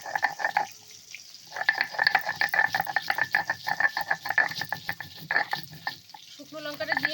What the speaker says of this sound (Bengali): এবার লঙ্কাটা বেটে নেব।